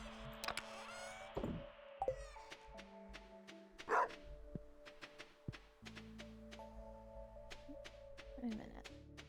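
A dog barks in the Stardew Valley video game, short soft yips and barks scattered among game music and small clicks, fairly faint in the mix.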